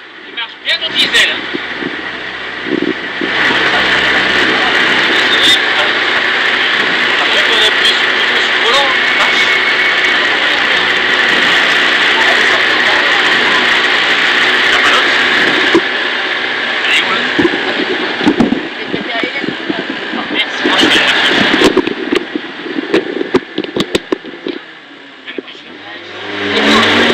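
Diesel rally car engine on the 2012 Rallye du Tréport special stage at Moulinet Briffard, a loud sustained drone with wind buffeting and revving swells that holds for most of the stretch, with people talking faintly underneath.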